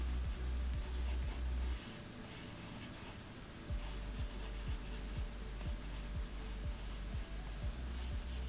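A pencil drawing hands on paper makes soft, scratchy strokes in short bursts, close and quiet, with brief pauses between passes.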